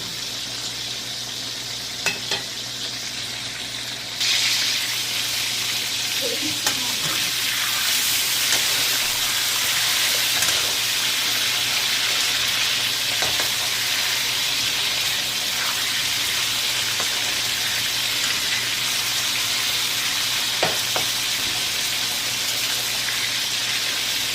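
Chicken wings for adobo brown in a frying pan, a constant crackling sizzle that jumps noticeably louder after a few seconds and carries on steadily, with occasional soft utensil clatter.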